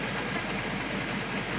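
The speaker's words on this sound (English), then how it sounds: "Trains come through here." A train rolls through a station with a steady, loud rumble and rhythmic clickety-clack of wheels over rail joints, continuous and close.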